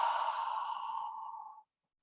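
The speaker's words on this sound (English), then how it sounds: "if my microphone can pick up the sound of my breath" A single long, voiced 'ah' exhale during a wall yoga session, close and fairly soft, fading steadily over about a second and a half into silence.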